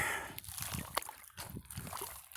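Water sloshing and splashing in a gold pan worked in shallow water, with repeated irregular swishes and trickles close by, fairly quiet.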